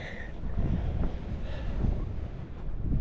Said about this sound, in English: it's protecting me from some of this wind. It is blowing.